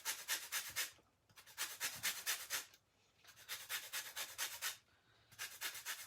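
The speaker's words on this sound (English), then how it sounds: "I just grate the lemon" Lemon zest is grated on the small side of a cheese grater for a lemon drizzle cake, heard as three bursts of quick, rhythmic rasping strokes close up, with short pauses between them.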